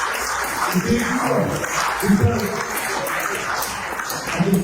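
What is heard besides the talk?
convention audience applause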